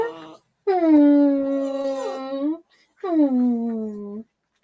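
A dog whines and howls in two drawn-out, rising-then-falling wails separated by a short silence, close and fairly loud.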